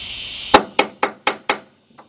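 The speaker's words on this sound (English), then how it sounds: "All right, let's hammer that down a little bit." Five sharp metallic hammer strikes ring out at a steady pace on a rear brake shoe part of a 2002 Chrysler PT Cruiser, each blow loud and close with a short decaying ring, followed by a faint tap.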